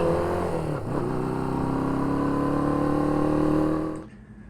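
A Honda CB550 motorcycle under restoration rides back toward a garage, its engine note climbing steadily as it accelerates, with a brief dip early, then cutting off abruptly near the end.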